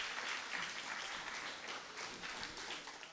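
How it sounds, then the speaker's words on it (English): Faint, distant applause from an audience following a memorial lecture, steady continuous clapping throughout a short stretch, heard quietly and without voices on top. "I think it deserves another round of applause"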